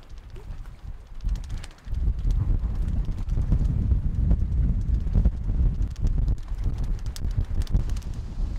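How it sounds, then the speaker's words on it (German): Strong wind buffets the microphone at an exposed bay, a continuous low rushing roar with gusty rises and a brief lull early on. "Der Wind wird auch ein bisschen mehr."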